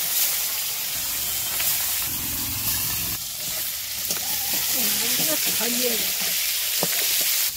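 Fish coated in salt and turmeric frying in hot oil, a loud, steady sizzle that carries on throughout, with a faint voice briefly surfacing partway through.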